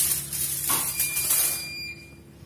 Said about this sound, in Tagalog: Ayan, tapos na yung washing machine.